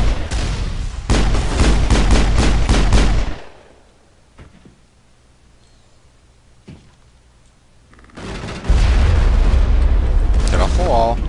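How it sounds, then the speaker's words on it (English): Pistol gunfire and explosions in the video game Mass Effect: dense, loud bursts of shooting and booms at the start, a quieter lull with faint clicks, then another heavy wave of firing and blasts. "I'm pretty much pounding the hell out of them with a pistol"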